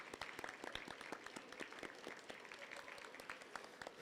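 Applause from a school audience at a sixth grade awards assembly, a dense patter of many hands clapping steadily throughout, moderately distant and fairly soft, with no speech over it.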